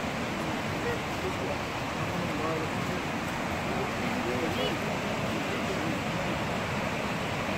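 Flooded Sivril creek in a landslide-hit area of Esenli village roars as a steady, loud rush of water through the whole stretch, with voices faintly present beneath the noise.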